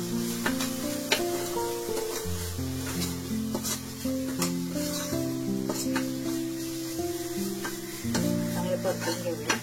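Ground masala paste for amti being sautéed in a pan, a steady close sizzle with scraping stirs throughout, while a musical tone runs along underneath.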